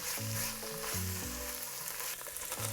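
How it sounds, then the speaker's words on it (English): Garlic, onion and chorizo sizzle in a pot, a constant bright hiss heard close up beneath prominent melodic music with stepping notes. "When the onions start to soften, stir in the garlic and allow it to cook for about a minute."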